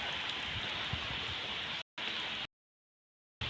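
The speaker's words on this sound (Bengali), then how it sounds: "দেখেন চারপাশে অনেক বৃষ্টি হচ্ছে" Heavy rain falling steadily outdoors beside a parked car, a dense even hiss broken by two abrupt dropouts into silence, with no voices over it.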